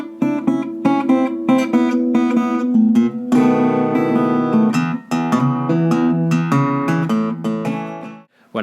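Electric or acoustic guitar plays a traditional blues intro in E, with ringing fretted and open-string notes in a steady pattern of picked phrases and held chords, close and loud, with no talk.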